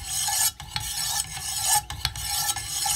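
Knife steel drawn repeatedly across 600-grit sharpening stones on a Wicked Edge WE130 guided sharpener, giving a steady close rasping scrape in continuous strokes with brief pauses between passes.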